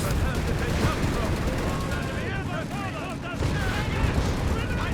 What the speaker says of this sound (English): lots of explosions, Commandos go down, ripped apart there in a hailstorm of shrapnel and bullet fire there